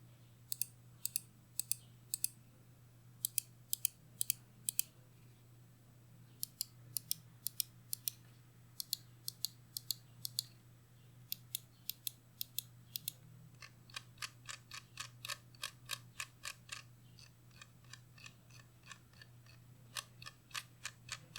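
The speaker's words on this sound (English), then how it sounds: "show you guys the sound test for the M42 wireless" Xtrfy M42 wireless mouse buttons clicking and scroll wheel ticking, heard as bursts of sharp, close clicks in quick runs with short pauses, over a steady low hum and with no voices.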